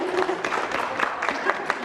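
An audience at a live short-term rental training event for real estate agents cheers and claps for the event co-sponsor, a dense, continuous wash of applause filling the whole moment.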